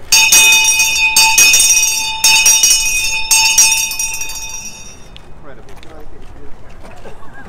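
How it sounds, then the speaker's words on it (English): A town crier's brass handbell rung outdoors in four bright, loud bursts of clanging strokes, each cutting off sharply, followed by the quieter murmur of a crowd. "Just ring your bell a bit."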